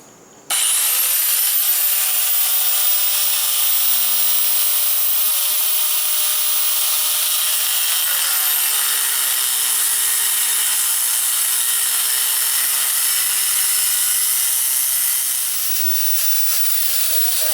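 Power saw cutting through the 1/16-inch-thick metal plating of a 1967 Ford F100 truck cab: a loud, steady, high-pitched grinding whine that holds nearly unbroken for the whole stretch, with a slight dip in pitch midway, close up with no talk.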